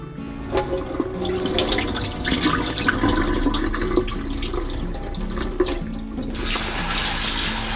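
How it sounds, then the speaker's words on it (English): Tap water runs steadily into a bowl as sushi rice is washed by hand, a continuous close splashing and gurgling stream with no talk. "we wash it until the water comes out clear"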